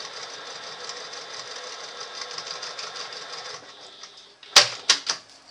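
A sewing machine runs in a fast, even mechanical chatter while reverse stitching at the end of a seam making a small case, then slows and stops, followed by a few sharp clicks and clunks close up.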